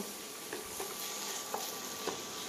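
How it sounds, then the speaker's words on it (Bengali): Tomatoes sautéing in a pan with salt and chili powder give a soft, steady sizzle broken by a few light stirring scrapes, quiet and close with no talking. "এতে নুন, লঙ্কার গুঁড়ো, একটু পরিমাণ মতো নুন দিয়ে একটু কষাবো"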